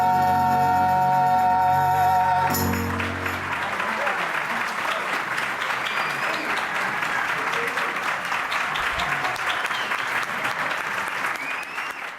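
Audience at an LGBT Hall of Fame induction ceremony applauding after a men's chorus finishes singing, with the final sung chord giving way to loud, sustained clapping that fills the hall for about ten seconds.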